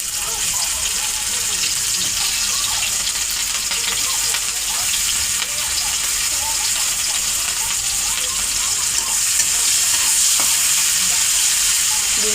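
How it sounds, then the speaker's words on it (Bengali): Green beans sizzle loudly in hot oil in a wok while being stirred, a dense constant frying hiss with occasional scraping from the spatula, no voices. "এর মধ্যে এবার বিন কড়াইগুলো ভেজে নেব।"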